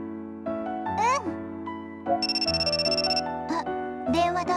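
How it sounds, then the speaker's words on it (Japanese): Telephone ringing in a Dreamcast game, bright electronic ring bursts with a warbling repeated tone in the middle, interleaved with sustained synth music notes and chimes, fairly loud and close. "あ、電話だ"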